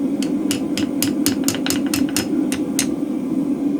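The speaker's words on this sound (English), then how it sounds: "Small little taps, you only want it to move a little bit." A small hammer strikes a hot mild steel spring fuller held in an anvil's hardy hole, a dozen or so quick, fairly light metallic taps in an uneven rhythm over a steady low background hum.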